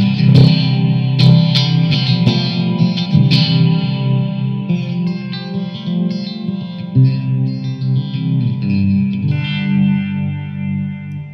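Electric guitar chords through a Blackstar ID:Core V3 amp shimmer with a pulsing tremolo, trailed by echoing delay repeats and a washy reverb tail, played steadily and fairly loud.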